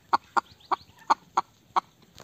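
A rooster outdoors in snow clucks in a steady series of about seven short, sharp calls, evenly spaced and close by, with faint background noise between them.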